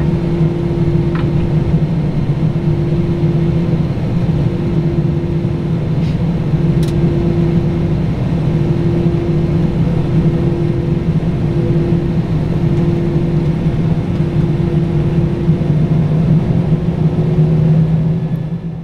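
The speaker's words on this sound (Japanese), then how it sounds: "そのまま離陸許可を得て滑走を開始します。" A StarFlyer airliner begins its takeoff roll at Haneda, heard from the cabin as a loud, steady engine roar with a constant whine running underneath, even and unbroken throughout.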